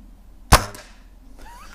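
A single sharp crack comes from a Hatsan Striker .25 air rifle, UK spec, fired with open sights at quarry. A brief faint trailing sound follows, then near silence.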